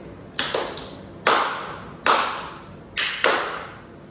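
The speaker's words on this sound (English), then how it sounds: "Sir Hector, Arthur's guardian, stepped forward and clapped" Hands clap in a storytelling soundscape about a royal guardian at the sword in the stone: six sharp, close claps in uneven pairs and singles, each with a short reverberant tail, with no voices.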